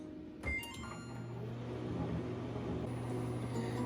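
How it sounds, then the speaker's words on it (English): A click and door clunk, then a steady low electrical hum of a microwave oven heating juice, with a faint whirring drone throughout. "Place it in the microwave until it starts to boil."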